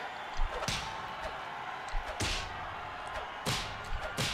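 Boxing punches landing in the Wii Sports Club video game: a few sharp, separate slams spaced a second or more apart, heard close and loud over faint background talk.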